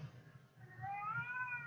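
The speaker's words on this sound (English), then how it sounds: "sorry, that is my cat." A male house cat on a diet meows insistently, a rising, drawn-out complaint that swells and holds in the second half, close and fairly loud against a quiet room.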